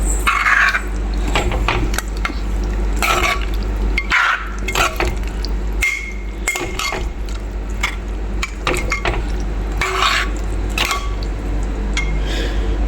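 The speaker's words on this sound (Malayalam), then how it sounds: "ഇനി ഇതൊന്ന് ഇളക്കി കൊടുക്കുക" Fried cashews and raisins being stirred into a sweet snack mixture in a pan, making intermittent clinks and scrapes of spoon against metal, close and fairly loud, with no talking.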